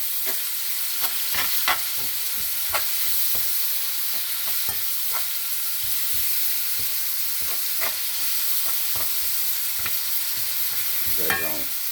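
Seasoned meat frying in a skillet for pineapple baked beans, a steady close sizzle with scattered sharp crackles and occasional utensil scrapes, continuous and without talk.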